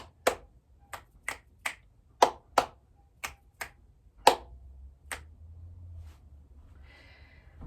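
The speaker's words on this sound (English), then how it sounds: "I like to end with some clap snaps" Crisp, close clap snaps mixing hand claps and finger snaps at the close of a workout, about a dozen sharp hits in a loose, uneven rhythm, then a quiet rustle.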